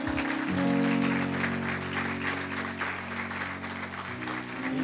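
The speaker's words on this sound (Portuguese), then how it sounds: "Vamos aplaudir o nosso Senhor." A church congregation applauds continuously, a dense wash of clapping, while sustained musical tones play underneath.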